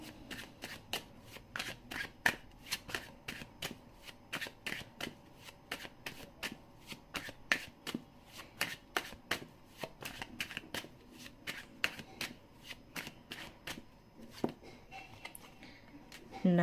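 Tarot cards are shuffled over and over close up, a long run of crisp, rapid flicking riffles in quick regular bursts, fairly quiet and with no talking over them.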